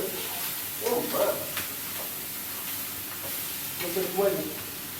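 Food frying in a pan being stirred, a continuous low sizzle with scraping stir sounds, and a voice speaking briefly in two short bursts over it.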